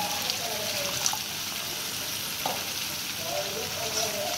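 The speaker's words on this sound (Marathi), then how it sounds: "तेल सुटेपर्यंत ही ग्रेव्ही शिजवून द्यायची" Steady broadband sizzling from a pan of simmering paneer-and-peas gravy cooking until the oil separates, with a few soft stirring scrapes and clinks, no voices.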